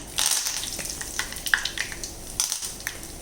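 Curry leaves dropped into hot coconut oil for a prawn roast, giving a close, bright crackling sizzle with sharp spitting pops over about three seconds, no voices.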